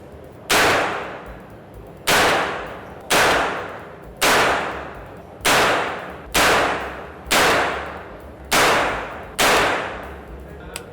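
Gunshots from a medium-size, small-calibre gun at a shooting session, eight sharp cracks spaced a second or two apart, each with a short ringing tail, loud and close with no talking.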